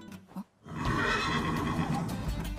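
A horse in an Attack on Titan anime episode lets out a loud, sustained neigh that starts after a brief near-silent gap and carries steadily close up for about two seconds, with no talking over it.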